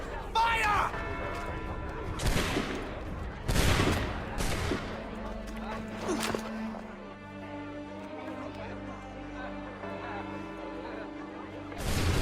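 Musket volleys in Assassin's Creed 3: several loud, crashing massed shots ring out in the first half, with people shouting and talking around them before the scene settles into quieter dialogue.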